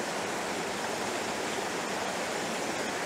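Brook water rushing over a small cascade in a shaded forest, a steady, dense, close roar of flowing water with no pauses.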